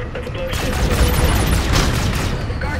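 A loud, rolling explosion fills a Call of Duty: Infinite Warfare battle scene, a sustained roar of blasts and rumbling debris mixed with gunfire and voices calling out.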